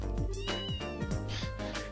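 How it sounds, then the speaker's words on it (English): A cat in the video game Trails in the Sky meows several times in quick succession, close and clear over a steady bed of game music. "I would assume that's the cat being confused."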